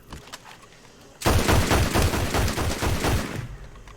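Gunfire in the video game SnowRunner, a sudden burst of rapid, loud shots in a tight rhythmic volley lasting about two seconds, then cutting back to quiet background.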